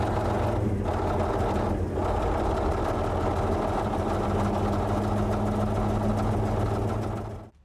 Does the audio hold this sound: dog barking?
no